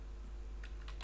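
Fingers type on a computer keyboard during C++ coding, giving a quiet cluster of light key clicks that comes only late in the clip over a steady electronic hum.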